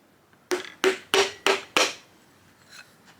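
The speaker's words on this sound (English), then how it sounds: "while pushing down on this tool, we'll give this a bunch of good whacks and it will slide into the cylinder" Five evenly spaced, sharp hammer whacks drive a piston down through a ring compressor tool into the cylinder of a Miata engine being built up for turbo power, each strike ringing briefly before quiet returns.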